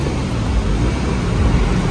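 Cars pass on a town street near an open market in Bedford, UK, giving a loud, continuous roadway rumble with no clear gaps between vehicles.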